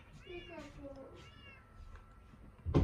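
A cat in the video game Minecraft meows twice in quick rising-falling calls, with a sharper noise bursting in at the end.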